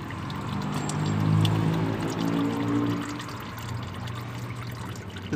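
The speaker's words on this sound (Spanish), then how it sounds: "lo quitamos y acercamos un poquito el recipiente para que nos caiga el aceite de aquí." Motor oil draining from a Nissan Versa into a container below, a steady close pouring gurgle that swells early and then settles into an even flow.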